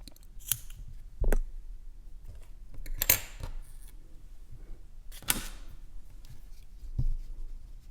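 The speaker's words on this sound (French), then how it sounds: "Et je vais couper." Scissors snip through yarn while finishing a crocheted bear keychain, giving several sharp, close metallic clicks and cuts spaced irregularly over a quiet background.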